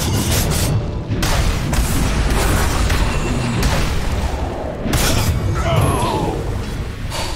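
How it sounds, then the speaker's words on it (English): A tower falling during a Dota 2 match, a heavy rumbling, booming collapse amid the dense, loud clatter of battle, with repeated deep impacts over several seconds. "Dire's middle tower has fallen."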